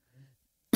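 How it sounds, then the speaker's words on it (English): A single sharp cough bursts out near the end, loud and close, after a soft murmur of a voice earlier. "Excuse me, had to cough there."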